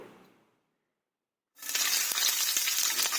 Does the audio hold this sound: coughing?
no